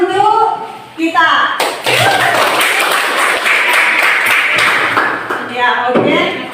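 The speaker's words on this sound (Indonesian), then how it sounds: "Tepuk tangan untuk kita." Students in a classroom clapping together in a dense burst of applause lasting several seconds, close and loud, with voices before and after.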